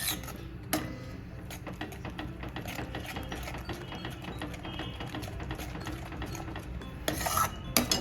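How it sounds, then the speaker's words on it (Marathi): A cashew mixture for malai paneer stirred steadily in a pan, producing a continuous close rhythmic scraping and rattling of spoon on metal for several seconds, louder clatter near the end, no talking. "त्याला सतत ढवळत राहायचं कारण ते चिटकू शकतं"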